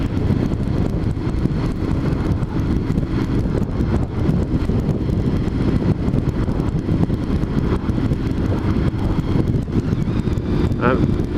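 Motorcycle riding at speed, with heavy wind buffeting the microphone as a loud, continuous roar that runs steadily throughout with no break.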